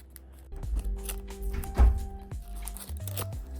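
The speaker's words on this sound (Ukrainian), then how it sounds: "Відкриваємо пакетик." Crinkly paper rustling and tearing as a small packet is pulled open, with soft handling noises and brief crackles close by.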